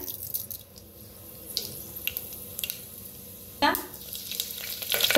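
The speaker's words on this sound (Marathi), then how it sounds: "आता तेल चांगलं गरम बी झालंय, फोडणी बी छान बसली" Mustard seeds sizzle in hot oil inside a pressure cooker, a close, steady frying hiss with sharper bursts, including a loud flare partway through.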